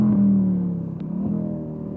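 A Chevrolet Corvette C8 passing on a race track, a loud, deep engine drone that peaks early and then fades slightly as the car moves away.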